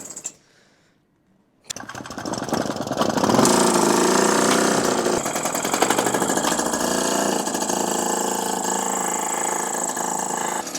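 A 40-year-old Solex moped engine restarted after long disuse, buzzing loudly and steadily at close range as it revs up and runs lifted off the wheel, following a brief silence.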